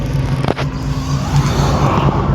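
A car engine hums and gradually picks up revs during a driving lesson, a loud steady drone close by with no speech over it.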